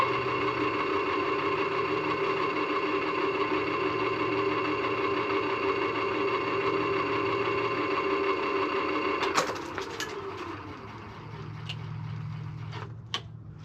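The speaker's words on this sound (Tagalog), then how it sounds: "nice yung motor mga kadeday gumagamit" A salvaged, rusty e-bike hub motor runs at a steady electric whine with a hum beneath it, fairly loud and constant, then spins down with a falling tone, followed by a quieter hum and a couple of clicks.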